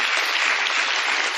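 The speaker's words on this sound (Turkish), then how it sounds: "Bir alkış da onlara," Short burst of dense, steady applause from an audience, loud and close, many hands clapping together without a pause.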